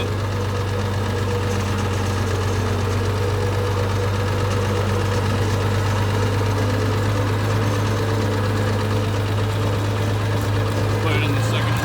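A Farmall 706 tractor fitted with M&W pistons drones at a steady low rumble while being driven around, the engine loud, close and unbroken throughout.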